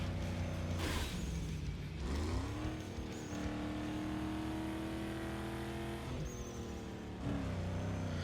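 An American SUV with a 4-speed automatic drives in Need For Speed Underground 2. The engine drones steadily and loudly, with pitch rising and falling through gear changes. No one speaks.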